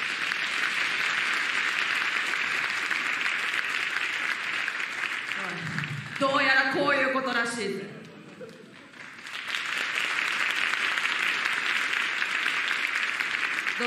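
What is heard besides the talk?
audience applause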